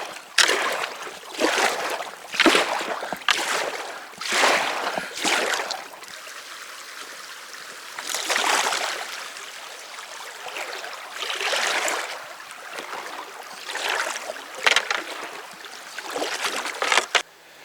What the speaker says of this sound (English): Much harder to paddle and the water's not that deep again.